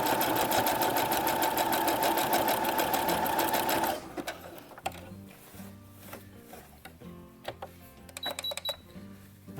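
A sewing machine runs a 2 mm wide zigzag reinforcement stitch at 0.4 mm length on a jumpsuit seam, a fast steady mechanical whir for about four seconds, then stops, followed by scattered clicks and handling sounds.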